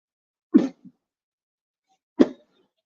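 Two sharp coughs about a second and a half apart, close and fairly loud, with silence around them.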